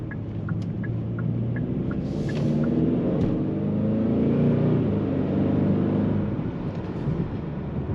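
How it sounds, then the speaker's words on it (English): A 2023 Hyundai Sonata N-Line front-wheel-drive sedan engine revs, a loud low rumble that swells in the middle and eases off. A few faint, sparse ticks sound early on. "they're making these cars sound so aggressive for what they are"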